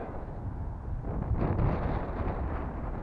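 Strong wind buffets the microphone in low, rumbling gusts, swelling louder midway through before settling back to a steady roar.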